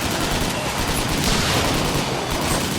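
Dense, loud gunfire from the video game Mindjack, a sustained burst of rapid shots forming a continuous roar with no pauses.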